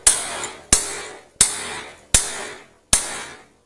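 A hammer strikes a stuck, rusty metal bicycle seat post in five sharp, evenly spaced metallic blows, each ringing out and decaying before the next, close and clear.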